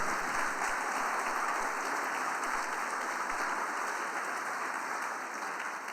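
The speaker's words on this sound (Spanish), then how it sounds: "Dale ese aplauso y alabanza." A church congregation breaks into praise applause during a Spanish-language service, a dense, steady wash of clapping that holds evenly for several seconds and tapers slightly at the end.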